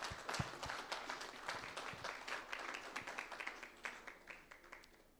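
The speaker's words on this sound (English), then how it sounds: "Let's have a huge round of applause for our EC members." Audience at a BBB Dhatri Nelamangala chapter event in Bangalore applauds EC members, a steady, fairly faint ripple of many hands clapping throughout.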